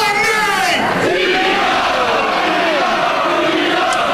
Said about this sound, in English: D'Lo Brown asking the Coventry crowd to quite rightly say what's his name